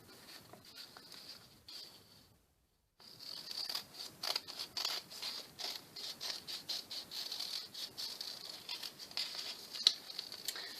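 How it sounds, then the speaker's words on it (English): Scissors cut out a heart shape from craft material for a stuffed heart, giving a faint, irregular train of soft snips and rustles after a brief pause, close by and quiet with no talk. "now we're going to cut this out."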